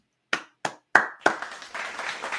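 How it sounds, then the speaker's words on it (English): Clapping at a baseball play-by-play stream between the San Francisco Giants and New York Yankees: three sharp, separate claps close by, then a brief loose burst of applause from several hands. "A round of applause."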